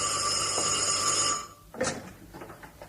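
An old-style telephone bell rings steadily and loudly for over a second, then cuts off, followed by quieter rustling and a brief knock nearby.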